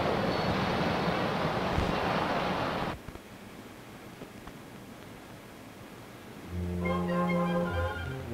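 Water gushing at high pressure from an opened valve, a loud broadband rush that cuts off abruptly after about three seconds, leaving quiet, before a low horn-like tone enters near the end.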